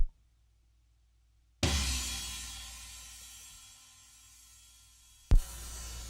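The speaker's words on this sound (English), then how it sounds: "this cymbal here, it's a Zildjian Azuka" A 15-inch Zildjian Azuka effects cymbal is struck once after a moment of silence, a loud, washy, close crash that decays slowly for several seconds before a sharp second hit.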